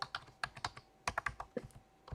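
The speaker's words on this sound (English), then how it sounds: "I'm going to type in the IP" Computer keyboard keys being typed, entering an IP address into a browser while setting up a VMware vCenter 7.0 server: a short burst of crisp, close clicks in uneven clusters, with no voices.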